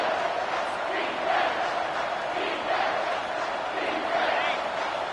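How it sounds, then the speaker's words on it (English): Roaring stadium crowd cheering in a football video game as fans back the defense on third down, a sustained swelling roar with commentary over it. "Decibels rising as the crowd gets behind this defense on third down"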